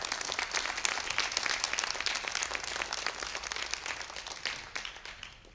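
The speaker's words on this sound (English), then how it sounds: "Please join me in thanking them with a round of applause." Audience applause at a National Junior Honor Society induction ceremony, dense crowd clapping at full strength that slowly thins and fades over several seconds.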